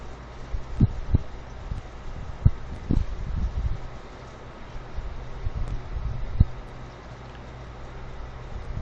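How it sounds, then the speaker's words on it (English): Wind rumbles and gusts against the microphone, with occasional sharp buffeting thumps, steady and fairly close, with no voices. "it's windy"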